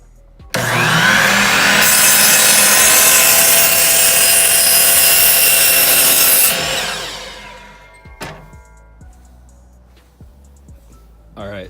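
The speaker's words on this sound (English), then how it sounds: "So I'm gonna go ahead with the miter saw here." A miter saw cuts through a 2x4 for a sand bag box frame for a Ford F-150, whining loud and steady for about six seconds before spinning down, followed by a few faint knocks and clatters.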